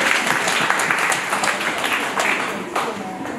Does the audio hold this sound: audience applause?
yes